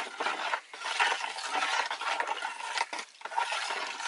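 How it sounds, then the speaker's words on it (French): A homemade cleaning mixture with soap is stirred by hand in a jug, giving a steady scraping swish with brief gaps, close and fairly loud, with no voices. "Donc vous mélangez."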